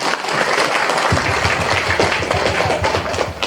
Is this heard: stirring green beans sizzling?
no